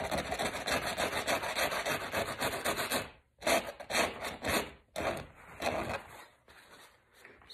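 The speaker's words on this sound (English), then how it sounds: "So I'm going to take a razor blade and simply, it's dry already." A razor blade scrapes dry paint off a painted drawing, a steady close raspy rubbing in quick repeated strokes, pausing briefly, then resuming in shorter scratchy bursts.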